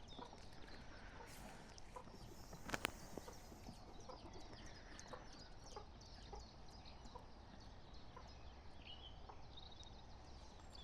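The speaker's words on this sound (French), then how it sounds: "J'ai une poule qui pique mes pieds." Faint hen clucks are scattered over a busy, noisy outdoor background, with a brief louder burst near the start.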